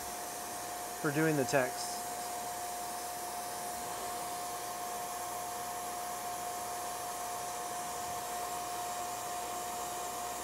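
A sandblaster engraves text through a photoresist mask on a memorial product, giving off a loud, unbroken airy hiss; a voice speaks briefly near the start.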